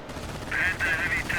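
An MG42 heavy machine gun firing in the Company of Heroes game, rapid bursts of clattering automatic fire in short strings with brief gaps, under a busy battle din and a voice.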